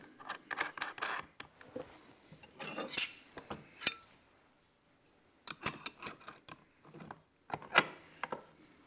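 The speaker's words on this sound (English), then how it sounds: "slide this bolt into place. We're going to use some washers just to space everything out so nothing rubs together. Then we'll cap it off with a lock nut" Bolt, washers and a lock nut are fitted onto a shop-built plywood belt sander, giving scattered metallic clinks, taps and ratchety rattles in short bursts separated by quiet gaps.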